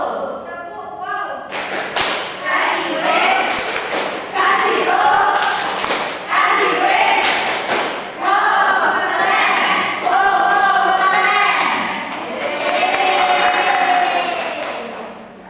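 A class of pupils in a microteaching lesson on Pancasila performs a clapping chant, voices chanting together in rhythm with sharp claps, loud and close throughout.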